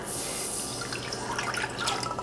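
A cup of water poured into a pot for simmering mashed potatoes made from potato chips, a close, steady splashing pour with dripping spatters toward the end.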